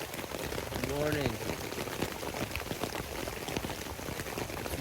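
Heavy rain drumming on a backpacking tarp at dawn, a dense, steady patter close overhead with brief faint voice-like tones early on.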